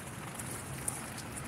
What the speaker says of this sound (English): you can see and hear the rain falling